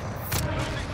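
A single sharp gunshot cracks out in a first-person shooter match, loud and close, with voices talking around it.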